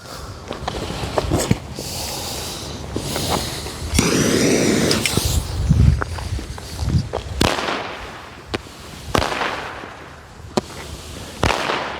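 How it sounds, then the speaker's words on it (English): A Supreme Fireworks Dinosaur firework goes off outdoors, loud sharp bangs and crackling bursts repeating irregularly, with a longer fizzing, roaring stretch in the middle. "But first we're doing this Dinosaur. Dinosaur is a Supreme Fireworks product."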